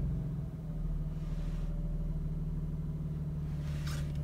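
A 2019 BMW M2 Competition, 3.0-litre 405 bhp with a REMUS exhaust, idles with a deep, steady low rumble, close and constant, with a brief faint hiss near the end.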